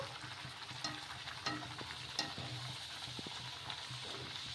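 A cabbage poori deep-fries in hot oil with a continuous close bubbling sizzle, marked by a few light crackles and utensil taps.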